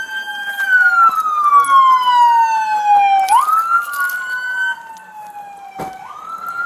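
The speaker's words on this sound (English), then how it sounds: "Just shut the last siren off." Police car sirens at an arrest scene in Baltimore wail loudly and close, several overlapping tones sweeping up and down, then one winds down and cuts off.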